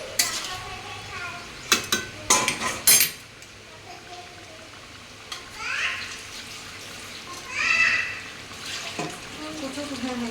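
Food being stirred in a cooking pot, with sharp metal clanks and scrapes of a utensil against the pot in quick bursts, then quieter scraping and some water sounds, close by.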